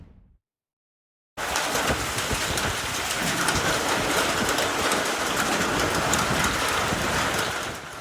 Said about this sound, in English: People seeing storms moving across the area, dumping quite a bit of hail.